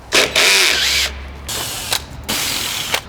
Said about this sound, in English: removing a couple of 10mm bolts along there